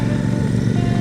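A motorcycle engine at the Žemaitija motorcyclists' rally in Plungė gives a short burst of steady, close, throaty drone.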